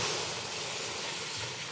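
Milk poured into a hot pan of browned rice gives a steady, close hiss like steam, continuous and even throughout with no talking.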